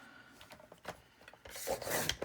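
Paper is trimmed to size for a paper bag mini album: soft rubbing and scraping at first, then a louder, close rasping slide of the cut near the end.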